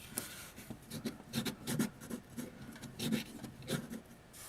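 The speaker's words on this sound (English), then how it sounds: "you open up your glue stick, and you want to go ahead and apply some, about 1 inch" A glue stick rubbed across paper while covering the bottom of a rolled paper basket: quiet, repeated scraping strokes in an uneven rhythm, close up with no voices.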